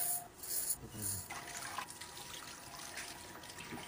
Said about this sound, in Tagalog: tinatakal ko talaga yung tubig para saktong-sakto lang at hindi malata